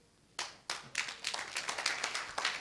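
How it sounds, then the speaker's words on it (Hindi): An audience breaks into applause for the winning team at a training session, a few scattered claps first, then building into steady, moderately close clapping from a group. "मैं चाहूंगा जोरदार ताली हो जाए विजेता टीम के लिए"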